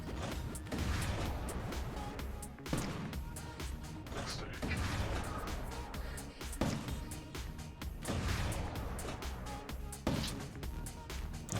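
Missiles launch and detonate in the PC tower defense game Artificial Defense, a dense, continuous barrage of loud repeated blasts and whooshes layered over game music, with bursts recurring every couple of seconds.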